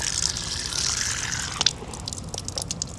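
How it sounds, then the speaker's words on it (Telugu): Fresh drinking water from a borewell splashes and trickles steadily nearby, a hissing flow with scattered drips and small splashes. "కేడీపేట బోరేస్తే మంచినీళ్ళు పడతాయి ఇక్కడ"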